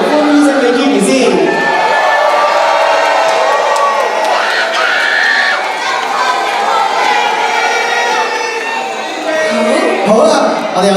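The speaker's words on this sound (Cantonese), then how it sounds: "熱烈嘅溫暖嘅揮手同埋歡呼聲俾 Gigi 先" A loud, dense crowd of fans cheers and shouts at Gigi's 21st birthday party, a continuous roar that lasts the whole stretch, with a voice talking over it.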